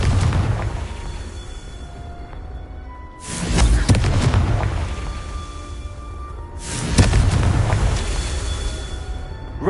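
Confringo fire spell explosions in Hogwarts Legacy, two loud booming blasts with rushing whooshes several seconds apart over a steady low rumbling game soundscape.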